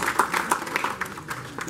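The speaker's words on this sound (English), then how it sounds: "please give yourselves a round of applause" An audience gives a round of applause at a science academy founder's speech, a brief burst of quick, dense clapping heard close and fairly loud.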